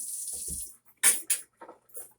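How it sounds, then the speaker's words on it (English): Filtered water is poured onto ginger in a bowl while making sorrel, a hissing stream at first, then a few short splashy pours broken by brief silences. "So right now I'm gonna just be adding some water."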